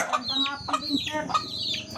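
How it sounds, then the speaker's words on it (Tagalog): Chickens cluck in a yard, repeated nasal calls at a steady rhythm, close and moderately loud. "Ang daming alagang manok ka."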